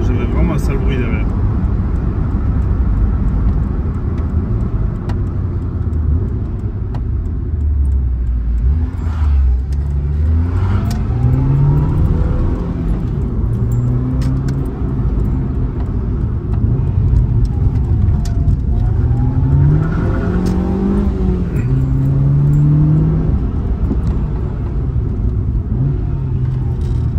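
A Ford Fiesta Zetec S drives along with a low steady engine rumble and road noise, rising and falling through gear changes, while people talk over it inside the car.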